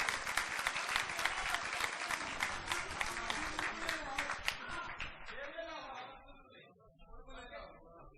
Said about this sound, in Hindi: एक भरपूर तालियां बाबा जी वास्ते।